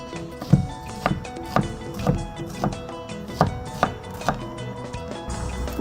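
A knife chopping an onion on a board, a steady series of about ten close, moderately loud thuds at an even rhythm over a background hum.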